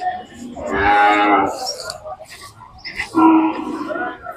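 Two loud moos from a Khillar cow at a livestock market in Sangola, one long low call followed by a shorter one after a pause, with faint background voices.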